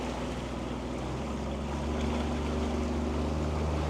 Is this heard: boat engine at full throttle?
yes